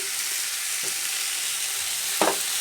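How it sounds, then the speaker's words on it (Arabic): Zucchini sizzles steadily in a hot frying pan, a continuous hiss broken by two brief scraping stirs, the second louder, with no talk. "هنزل معاها الكوسه واقلب تقلبتين."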